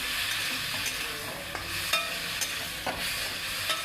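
Fish curry simmers and sizzles gently in a little oil, with a steady soft hiss broken by light scrapes as a spoon stirs the pan.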